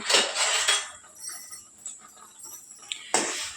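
A spoon scrapes and clinks against a pan in a few short strokes while stirring boiling semolina for kesari, with quiet pauses between them.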